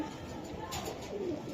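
A Budapest racer pigeon gives a soft, low, drawn-out coo close by, a brief murmuring call over a faint background hum.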